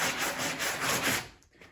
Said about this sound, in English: one of the first things I want to do is take this sponge sanding block